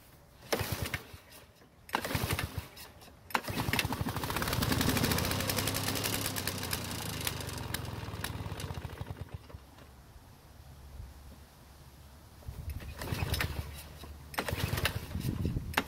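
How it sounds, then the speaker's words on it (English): Toro commercial lawn mower with a hard-starting engine being pull-started: several sharp rope-pull bursts, then a sputtering engine run lasting several seconds that fades, followed by more pulls near the end, close and fairly loud. "After that, I'll try a couple of real pulls and try starting it."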